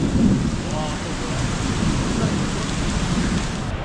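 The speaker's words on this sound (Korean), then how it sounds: "지금 이 어마무시한 비가 쏟아지는데 원래는 천둥만 치다가 이게 산발적으로 번개도 치고 있어요" Heavy tropical downpour in Penang with thunder, a dense steady roar of rain close by, with low rumbles of thunder rolling under it throughout.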